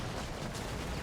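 Dense battle noise fills the Company of Heroes 3 match, with rumbling explosions and crackling gunfire merging into a continuous, loud wash of combat with no clear gaps.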